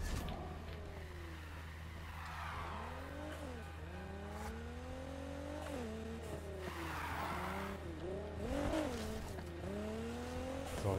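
Car in Need for Speed Heat, driving through a harbor area: a steady engine drone runs throughout with repeated sweeping tire squeals and revving pitch shifts, close and continuous.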